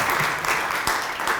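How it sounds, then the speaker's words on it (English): Brief audience applause at a community forum in Concord, a steady patter of many hands clapping at moderate level with no talk over it. "So I would really want us to kind of round of applause for those people who stepped up and"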